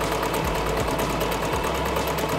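A sewing machine fitted with a hem foot runs steadily while hemming the edges of fabric ruffles, a continuous close mechanical hum with fine rapid stitching rattle and slight low knocks.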